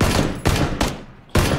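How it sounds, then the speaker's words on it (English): Gunfire in the battle royale video game PUBG: several loud, close bursts of rapid shots separated by brief pauses, each decaying quickly, with no talking. "Two shots."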